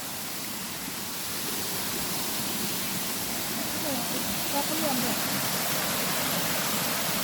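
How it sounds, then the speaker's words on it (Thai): A steady, full rush of falling water, continuous and fairly close, with no pauses or other distinct sounds. "ดูน้ำตกครับ"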